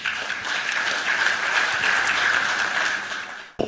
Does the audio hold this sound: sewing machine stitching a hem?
no